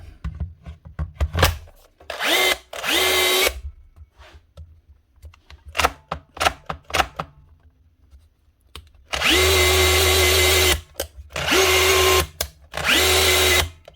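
A Bosch 36 volt SDS hammer drill, suspected of a hammer-mode fault, whirs loudly up close in repeated on-off bursts, with short blips at first and then longer sustained runs of the motor.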